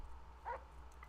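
A dog in the game GTA gives one short, faint whimper, a thin whine over a low background hum.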